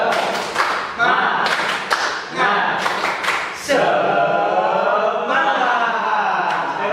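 Students in a classroom clap a rhythmic spirit chant, with bursts of group claps in a patterned beat mixed with loud chanting voices throughout.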